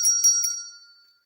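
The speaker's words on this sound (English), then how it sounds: "let's send out a ring of the bell to Amanda and her cat." A single small bell rings out clearly and close, its bright metallic tone decaying over about a second with no talking.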